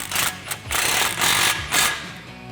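A ratcheting wrench tightening a Roush cat-back exhaust clamp on a 2018-2019 Mustang GT, heard as four bursts of rapid mechanical clicking, close and fairly loud.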